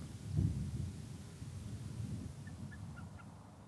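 Faint, scattered bird calls from a distance over a steady low rumble of wind in quiet Oregon countryside, with a deeper throaty call near the start.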